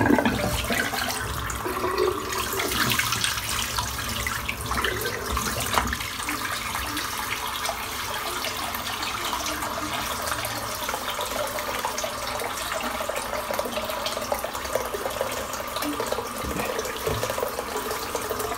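Tap water runs steadily into a bathroom sink for a long rinse after a head shave, a continuous, even rushing and splashing without speech.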